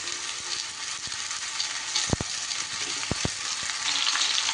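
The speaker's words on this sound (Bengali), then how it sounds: "এবার আমি এর ওপরে লাউগুলো দিয়ে দিই" Steady close sizzling of potatoes frying in a pan as bottle gourd pieces are added, with a few sharp clicks and scrapes as they are stirred in; no talking.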